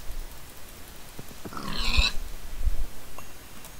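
Pigs in a Minecraft-like video game give one short snorting grunt at mid-distance, then faint low rumbles fade out.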